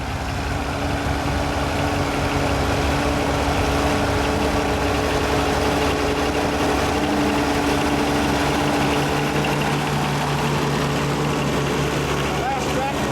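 A 1956 Oliver Super 88 antique tractor engine idles in a steady low rumble throughout, with a voice talking over it.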